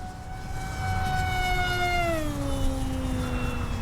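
A Durafly Rare Bear RC model plane flies at full throttle, its high electric motor whine holding steady and then dropping in pitch as it passes, loud and continuous.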